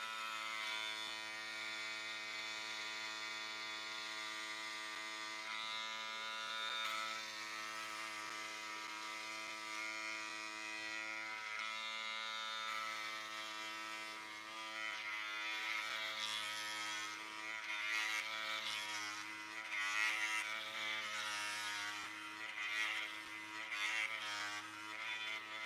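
A Hummingbird MK2 electric foil shaver buzzes steadily across a bald head, a close continuous motor whine with scratchy, rasping bursts as it cuts, no voices.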